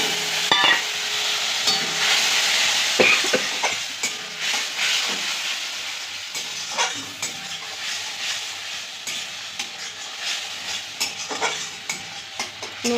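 Nigella seeds, chilli and turmeric hitting hot oil for a fried fish curry base, a steady bright sizzle with repeated scraping stirs and occasional clinks of a spoon on the pan.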